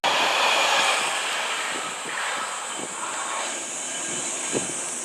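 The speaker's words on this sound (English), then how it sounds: "The locomotive is a Kawasaki DF200 diesel" A loud, steady diesel engine rumbles as a Kawasaki DF200 locomotive hauls the Seven Stars in Kyushu cruise train past, with a broad hiss of wheels and air and faint clanks along the way.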